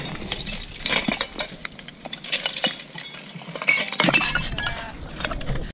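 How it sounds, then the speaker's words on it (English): Glass bottles clink and knock against each other at a massive old bottle dump, scattered light chinks and rattles over a rustling background. "Got a little glass there."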